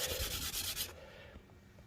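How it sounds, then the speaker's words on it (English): Sandpaper rubs a warped brass Aeolian stack flat in steady close strokes that are fairly loud at first and then fade to quieter, lighter rubbing. "It has a little bit of a warp to it, so we're going to sand it flat"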